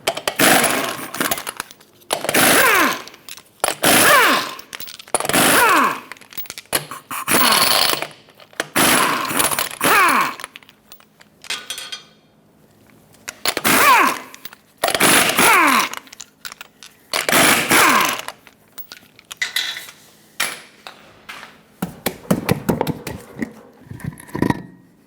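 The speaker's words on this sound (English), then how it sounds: "Use a 21mm socket, remove all 8 lug nuts, and then pull the wheel off." An impact wrench with a 21mm socket removes the wheel lug nuts from a 2000-2005 Ford Excursion in a series of loud, ratcheting mechanical bursts, each lasting about a second and separated by short gaps.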